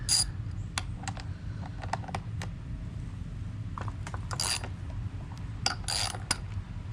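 Ratchet wrench working a bolt loose, a quick series of sharp metallic clicks and ratcheting bursts, some grouped in short runs, over a low steady outdoor rumble.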